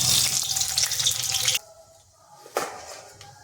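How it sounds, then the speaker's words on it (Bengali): Five-spice and two dried red chillies dropped into hot mustard oil for Bankura-style aloo posto give a loud, bright sizzling hiss for about a second and a half, which cuts off abruptly into near quiet with a faint clatter. "আর দিচ্ছি 5 ফোড়ন, দিয়ে দিচ্ছি 2টো শুকনো লঙ্কা।"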